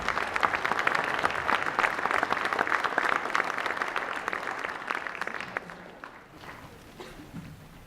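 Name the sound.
audience applause welcoming panel back on stage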